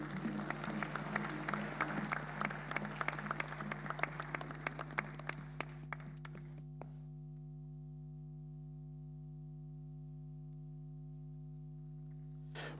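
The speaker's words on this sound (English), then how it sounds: "Round of applause again for our keynote speaker, Professor Atunuke Olusola Adebanji." Conference audience applauding a keynote speaker at a financial economics seminar in Ghana, a burst of scattered clapping over a steady electrical hum that ends abruptly, leaving the hum alone.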